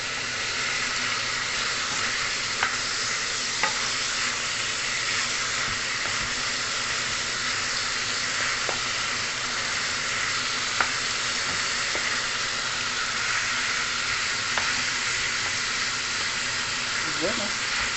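Chicken tinola cooks in a pot over high heat with a continuous loud sizzle and bubbling hiss, dotted with faint clicks and clanks, while someone talks.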